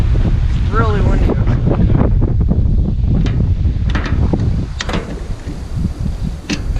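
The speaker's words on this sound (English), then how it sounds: "It's really windy" Strong wind buffeting a microphone outdoors while a headlight is being replaced on a 1992–1996 Ford F-150/250/350 pickup, a continuous loud rumbling roar with gusts, and a person talking over it.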